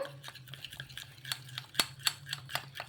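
Maida flour and oil being stirred together in a small bowl for rumali paratha dough, with soft repeated scraping and light clinks of a utensil against the bowl, close and quiet.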